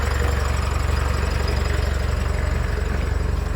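A tractor engine idles close by with a steady, loud low rumble and an even pulsing throb, and no voices are heard.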